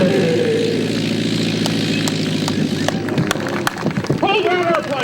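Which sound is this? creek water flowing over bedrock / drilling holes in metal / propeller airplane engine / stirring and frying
propeller airplane engine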